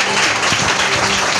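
A congregation at a church sermon claps loudly and together in a short, dense burst of applause with no speech over it.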